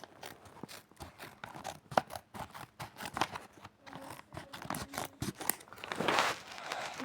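Scissors cut open a plastic package at close range with a series of short, quiet snips and crinkles, followed near the end by a louder rustle of the wrapping.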